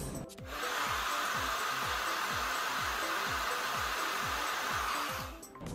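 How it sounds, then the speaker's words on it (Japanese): A Creates Reproniser hair dryer blows cool air across long bangs, a constant close rushing whoosh over a regular low pulsing motor hum, starting and stopping cleanly with no voices. "温風を当てたら次に冷風を当てます。"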